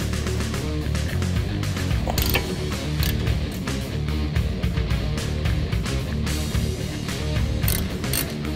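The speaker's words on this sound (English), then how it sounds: "Now we're going to pull off the caliper brackets." Tools working on the brake caliper brackets of a 2005-2014 Mustang give off continuous mechanical clatter and ratcheting, loud and close, with no talking.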